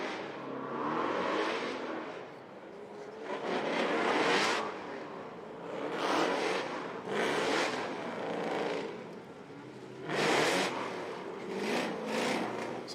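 A Pro 2 drift car at a Formula Drift Seattle event idles and revs near the start line, its engine swelling in repeated surges with raspy bursts over a steady running drone.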